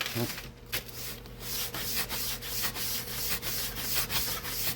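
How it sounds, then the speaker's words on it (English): Sandpaper rubs back and forth over a balsa wood model aircraft fuselage during build prep, giving a continuous close scratchy rasp with rhythmic strokes. "You can hear the difference in the sandpaper."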